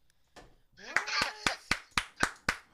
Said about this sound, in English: Let's clap for Harvey